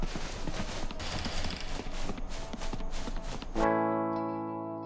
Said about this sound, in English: Sounds like a traveling cart.